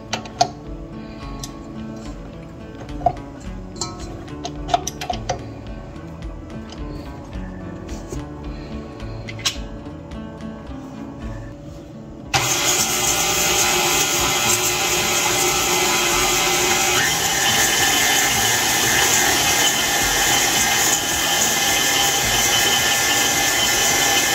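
An electric hand mixer beats cupcake batter with sugar for Christmas cupcakes, switching on midway after a stretch of quiet clinks and ticks, then running as a loud, steady whirring drone to the end.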